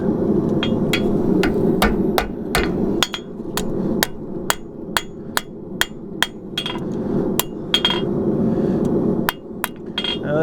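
A used horseshoe is hammered on an anvil to bend a clip, with roughly twenty sharp, loud metallic strikes in a steady rhythm over a background of constant shop hum.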